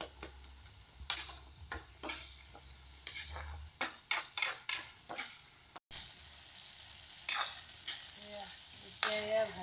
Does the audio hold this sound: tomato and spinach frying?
yes